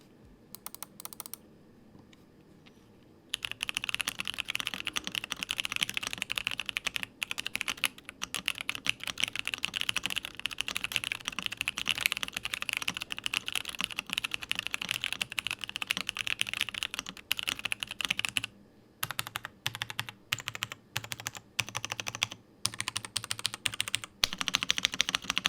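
Steady typing on a Rexus Daxa M82X mechanical keyboard fitted with Jwick T1 switches, close and clear, with a dense run of clacking keystrokes broken by a few short pauses.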